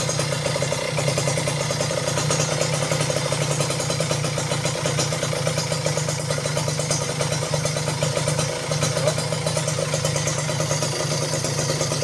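A Kawasaki Ninja motorcycle engine fitted with a PWK 34 carburetor idles steadily and loudly up close, its even mid-pitched throb holding without a break and no talk over it.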